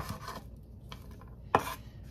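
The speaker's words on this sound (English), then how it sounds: "I'm just gonna cut all this in pieces and the garlic also" A few sharp knife chops on a board as garlic is cut into pieces, sparse and fairly close, with one louder chop standing out among softer taps and quiet gaps.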